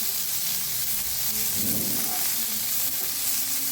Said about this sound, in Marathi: ही वालाची शेंग चांगली परतून घ्यायची आहे आपल्याला ते पूर्णपणे त्या तेलात फ्राय झाले पाहिजे